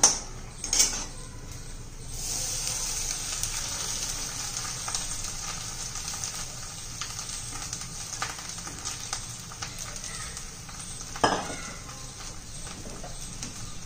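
Freshly grated wet coconut sautéing in a pan for fried modak filling gives a soft, steady sizzle with occasional spoon scrapes and one sharper clink near the end.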